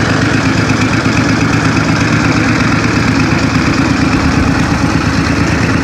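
A tractor engine idles steadily up close, a continuous low chugging rumble with no voices.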